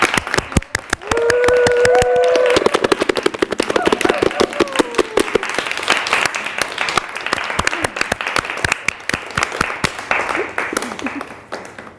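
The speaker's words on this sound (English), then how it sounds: "let's just give an applause to each one of us together for creating this space" A gathered audience bursts into loud, close applause with crisp individual claps, while a voice cheers or calls briefly early on and the clapping carries on strongly before thinning at the end.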